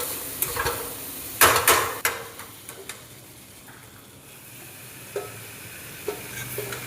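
Food stirred vigorously in a hot kadai, with scraping spoon clatters and sharp metallic knocks over a low sizzle, bursts bunching early then thinning to sparse taps.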